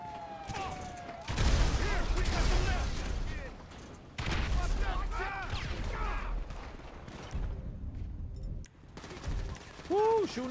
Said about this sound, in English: Shooting the cops now.